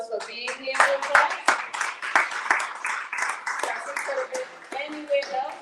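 At a Moorish conference, an audience claps in a close, uneven patter of individual hands that swells and dips, mixed with people talking throughout.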